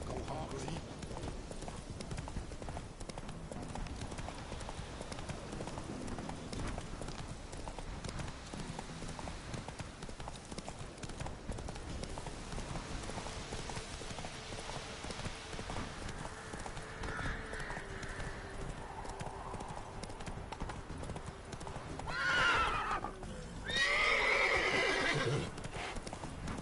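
Roach, Geralt's horse in The Witcher 3: Wild Hunt, gallops with steady, rapid hoofbeats throughout, and a loud whinny breaks out near the end. Voices talk over the running horse.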